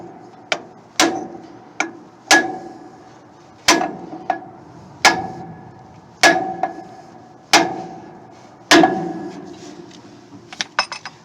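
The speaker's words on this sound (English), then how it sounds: "we'll just hit it with our two hammers" Two hammers striking semi trailer brake parts, about a dozen sharp metallic blows at an uneven, unhurried pace, each ringing briefly, close and loud, ending in a few quick lighter taps.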